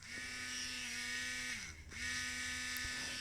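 A small rotary polishing head whines steadily while buffing a die-cast Matchbox Ford Capri, a close, high-pitched motor hum that dips briefly as the tool bogs against the metal, then resumes at full speed.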